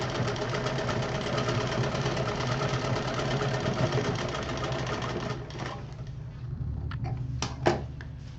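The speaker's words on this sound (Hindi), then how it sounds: "एक एक हिस्से में ही सिलाई करनी है" A sewing machine stitches fabric for a child's DIY almirah, humming steadily and close for most of the stretch, then easing into lighter, uneven running with a few sharp clicks near the end.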